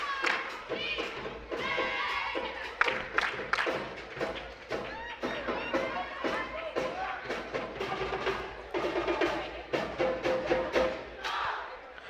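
Cheerleaders at a high school basketball game shout a rhythmic cheer, sharp claps and stomps punctuating it at a steady beat, with crowd noise underneath.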